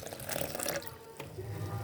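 Water poured into a breading marinade flavored with lemon peel, a soft, brief trickling splash close by, quiet and continuous for under two seconds.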